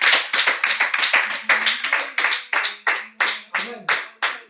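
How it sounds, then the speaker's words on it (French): A congregation at a mountain spiritual retreat claps for the Lord in a steady run of loud, sharp bursts, the applause rising and falling in rhythmic waves, with voices faintly mixed in. "Tu vas acclamer pour le Seigneur."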